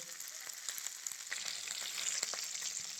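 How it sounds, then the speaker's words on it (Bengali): Chicken pieces fry in oil with a close, steady sizzle and a scatter of small crackles and pops, no voices present. "এইভাবে দিয়ে ভেজে নেব"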